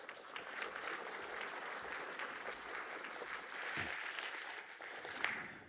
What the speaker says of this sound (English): A round of applause for Justin Hughes.